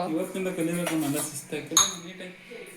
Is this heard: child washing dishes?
yes